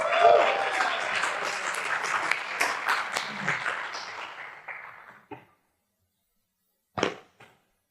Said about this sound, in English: please make a round of applause for Kiya, Stello, Mike